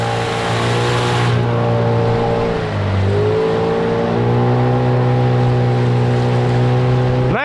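A Gladiator 9.8 outboard motor being run in on a boat on the water drones steadily and loudly, its pitch sagging briefly before rising again and holding, with no talk.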